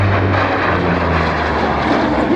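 A propeller-driven aircraft roars overhead at an air show in Wairarapa, a loud, dense and steady engine drone with a low throbbing propeller tone filling the whole stretch without any talk.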